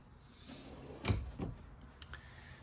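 A drawer in a 2025 Coachmen Chaparral fifth wheel slides shut with a soft thump, followed by a second lighter knock and a faint click, close and fairly quiet.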